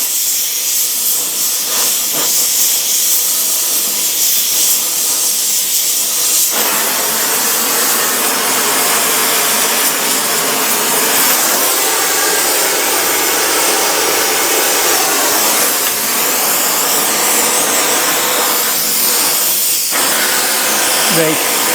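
A gas torch heats a seized brake caliper slider pin, roaring in a loud, continuous broadband hiss close by as leftover grease burns off, with a voice speaking briefly over it.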